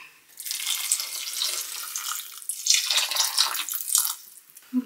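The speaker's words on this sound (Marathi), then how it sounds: "आता आपण ह्याच्यामध्ये ऍड करूया गरम पाणी" Hot water pours steadily into a cooking pot in a home kitchen, a loud continuous splashing rush that surges briefly midway before tapering off.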